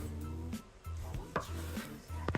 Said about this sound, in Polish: Rozpoczynamy naszą kanapkę e, e, od krojenia pomidora czerwonego plastry 3.